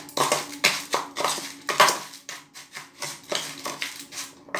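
A spoon scrapes and clinks against a cup while mixing coffee with a little water, repeated rhythmic rubbing strokes with light metallic taps, close and fairly quiet, no voices.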